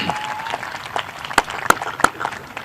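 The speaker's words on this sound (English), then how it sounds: "Let's give them a round of applause." Scattered applause from a school scholarship and awards audience honouring recipients, a modest patter of claps with a few sharp, louder individual claps standing out near the middle.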